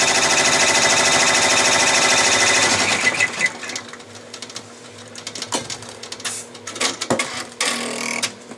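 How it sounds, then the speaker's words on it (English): An embroidery machine sewing a placement stitch for an appliqué pocket, a rapid, steady mechanical buzz at first, then a sparser run of uneven clicking, tapping stitches up close. "Right now the machine is stitching the placement stitch for the"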